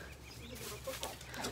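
Chickens clucking close by amid rustling and general outdoor noise.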